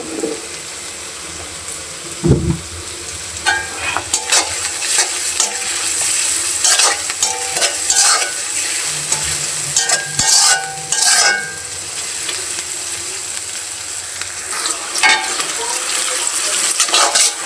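Oil sizzling steadily in a pan while kochur loti with pangas fish cooks, with spoon scrapes and stirring clatters on top, close and fairly loud, no talk.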